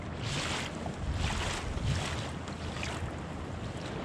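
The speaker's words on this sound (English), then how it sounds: "these waves are a little bigger now" Broadband rushing water and wind buffeting a small boat, with rhythmic surges of waves washing against the hull every half second or so.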